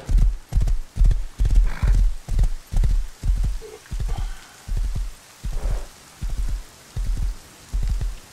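A horse in the video game Rust trots along in a steady, evenly spaced clip-clop of hooves, close and loud, over a soft patter of rain.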